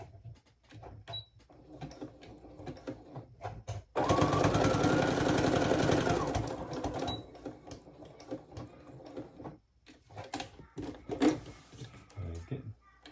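A sewing machine running a zigzag stitch on plaid fabric for men's pants whirs in one steady burst of about two seconds, with quieter handling sounds before and after.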